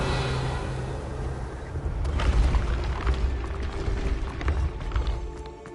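A Revelio spell is cast in Hogwarts Legacy, giving a rising whooshing boom that swells after a quiet start and lingers as a rumbling pulse before fading.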